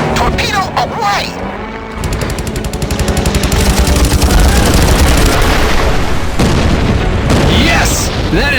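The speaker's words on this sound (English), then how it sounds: "Torpedo away." A torpedo strikes a submarine in the Heroes of the Pacific video game, a loud booming explosion with rapid rattling gunfire, rumbling on for several seconds over dense battle noise.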